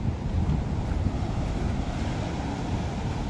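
Sea waves wash onto the white-sand beach at Kuala Baru, Aceh Singkil, a soft continuous surf rumble mixed with gusty wind buffeting the microphone.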